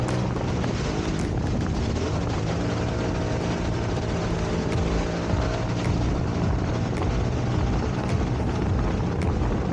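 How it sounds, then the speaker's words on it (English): A Sea-Doo Spark Trixx jet ski runs on a lake with a steady, loud engine and jet drone that holds without a break, heavy rumble and wind buffeting the microphone. "the jet ski is being pushed perfectly across the water."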